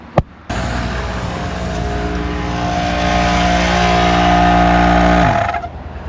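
An Adventure Kings Thumper 3-in-1 tyre inflator compressor starts after a short click and runs with a loud, steady motor drone and hum for several seconds, then winds down and stops.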